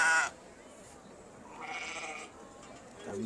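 Valais Blacknose sheep at a livestock show judging give a few short bleats, one at the start, one in the middle and one at the end, with quiet arena murmur between them.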